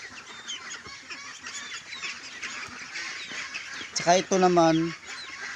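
Rhode Island chickens at feeding time, soft scattered clucks and rustling near the listener, followed by one loud honking call; someone speaks briefly.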